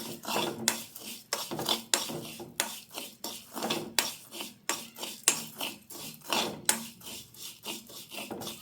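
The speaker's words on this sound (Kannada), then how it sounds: "ಇದನ್ನೀಗ ಸ್ವಲ್ಪ ಫ್ರೈ ಮಾಡಿದರೆ ಆಯಿತು" Vermicelli frying in a pan for homemade chocolates, with a spoon or spatula repeatedly scraping and clinking against the metal in a steady rhythm of strokes, close and fairly quiet, with no talk.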